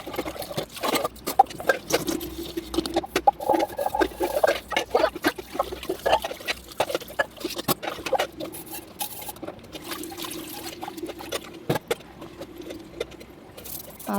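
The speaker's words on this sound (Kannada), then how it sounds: "ಪಾತ್ರೆ ತೊಳಿತಾ ಇದ್ದೀನಿ ಬೇಗ" Dishes being washed in a home kitchen sink, with steady watery patter and irregular clinks and clatters of utensils and pots, fairly close and continuous, with no talking.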